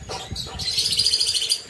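Pet birds in an aviary, including a Lutino Opaline, chirp and tweet in quick overlapping calls, close and fairly loud for a short burst.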